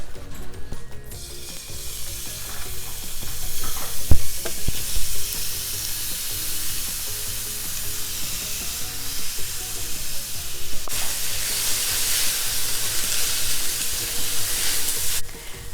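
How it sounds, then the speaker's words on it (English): A pound of ground beef browns in a tablespoon of olive oil in a hot skillet, giving a steady close sizzle with scraping and clatter of the spatula, louder bursts of frying near the start and toward the end. "add a tablespoon of olive oil to brown the beef"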